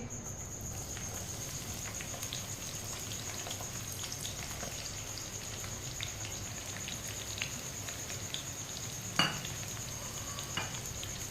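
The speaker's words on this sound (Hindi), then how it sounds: "ऑयल को मैंने गर्म कर लिया। कटी हुई तोरी डालेंगे।" Chopped ridge gourd frying in hot oil, a soft continuous sizzle with faint crackles and one sharp clink near the end, heard alone without talk.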